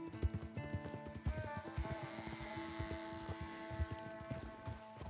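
Horse hooves clip-clop at a steady walking pace in Red Dead Redemption 2, fairly quiet, over a low continuous hum and soft background music.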